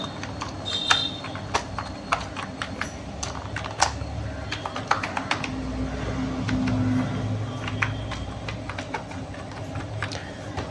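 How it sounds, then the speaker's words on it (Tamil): Password being typed on a computer keyboard at an e-Sevai centre login, an irregular run of sharp key clicks spread across the whole stretch over a steady background hum, with no talk. "இப்போ நான் திரும்ப வந்து பாஸ்வேர்டு என்னன்னு சொல்லிட்டு டைப் பண்ணிக்கிறேன்"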